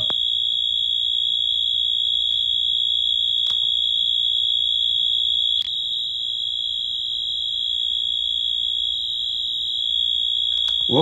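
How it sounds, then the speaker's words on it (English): A convenience store fire alarm horn in a Roblox game sounds continuously and loudly throughout, a steady piercing electronic tone with a few faint clicks underneath. "I have the convenience store fire alarm system. I have the horn set to continuous."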